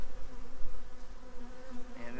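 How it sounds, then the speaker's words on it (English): Honey bees swarm during a trap-out on a tree at lunchtime, with returning foragers and guard bees swirling close. A dense, continuous buzzing drone holds steady and near, with shifting intensity and no talk. "it seems like every guard bee is swarming around my head right now"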